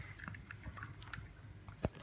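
A French bulldog puppy munching pork from a tray, soft wet chewing and biting noises repeating close by, with one sharper knock near the end; quiet overall, no talking.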